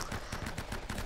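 Rapid gunfire from the game Uncharted: Drake's Fortune, a quick rhythmic run of shots at moderate volume with no talk over it.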